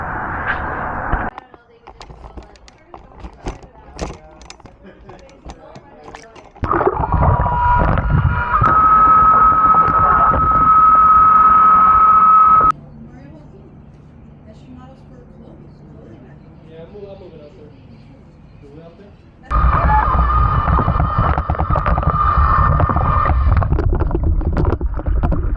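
Hydro 3S robotic pool cleaner running underwater in an inground pool and climbing steps, heard as a steady motor whine and rumble that drops away to a low hum and then returns, fairly loud with occasional talk.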